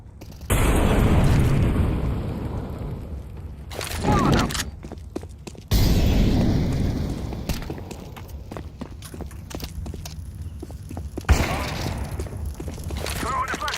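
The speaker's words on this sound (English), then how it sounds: "Grenade. Flashbang out." A flashbang grenade bursting in Counter-Strike 2, a loud sharp blast followed by a second boom, with footsteps and short player callouts between the explosions.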